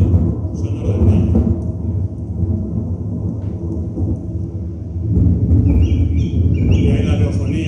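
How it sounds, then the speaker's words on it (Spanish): Thunder in a mountain valley rolls as a long, deep, continuous rumble, loud and close, swelling again midway, with faint birdsong rising above it toward the end. "Literalmente el sonido del trueno es el vaciado sonoro del rayo."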